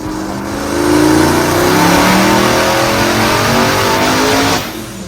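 A rebuilt, upgraded Chevrolet Corvette C6 running on a dyno gives a loud, close engine roar that climbs as it revs and holds steady for several seconds before cutting off.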